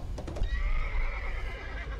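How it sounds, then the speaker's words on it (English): A horse neighs in the Layers of Fear horror video game, a loud whinny from nearby that lasts over a second with a bright wavering tone, after a few short knocking hoof-like sounds at the start. "That's a horse."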